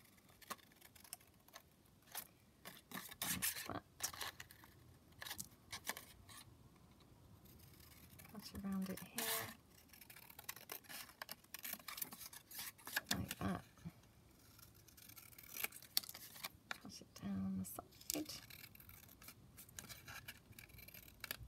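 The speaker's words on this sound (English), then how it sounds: "Cut the banner out." Scissors snipping out a paper banner at a craft table, a series of faint, close, irregular clicks and snips spread across the stretch, with quiet room noise between cuts.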